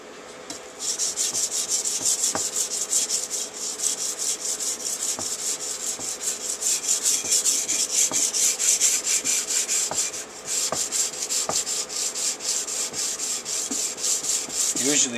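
Bolo machete blade being sharpened on a 600 grit abrasive, a continuous close rasping rub with steady back-and-forth strokes and occasional faint clicks.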